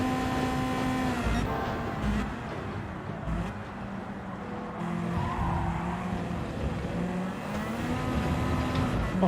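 A Nissan Skyline race car in Gran Turismo 7 at Monza revs and accelerates through gear shifts, its engine note rising and dropping in pitch with a brief dip in volume mid-run. Someone talks faintly beneath it.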